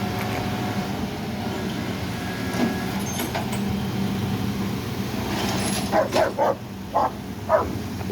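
Police dogs bark in a short series of sharp, fairly close barks near the end, over steady traffic and engine rumble at the scene of a car rollover response on the Jamaicaway.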